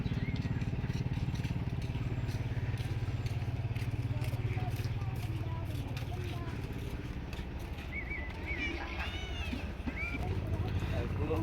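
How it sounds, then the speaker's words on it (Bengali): A new power tiller with a 20 horsepower engine and 18 blades runs steadily nearby, a loud continuous low mechanical drone with rattling over the whole stretch. "এটা হচ্ছে বিশ সর্স ইঞ্জিন আঠারো ব্লেড পাওয়ার টিলার"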